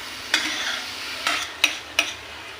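A utensil scrapes and stirs crumbly chhena (paneer) in a pan over a gas flame while it is cooked down for milk cake. Four distinct scraping strokes stand out over a soft, steady sizzle.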